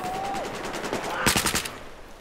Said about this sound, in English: He was shooting at you, wasn't shooting at me.